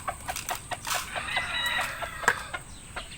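Chickens cluck and a broodcock rooster crows nearby during breeding-season feeding, with short repeated clucks and calls at moderate level.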